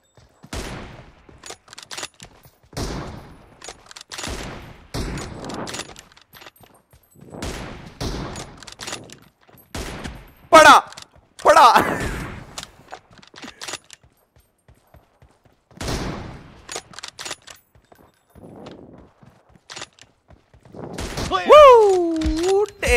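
Sniper rifle shots and bursts of gunfire in a team deathmatch video game, sharp cracks spread across the clip amid frequent excited talk from players.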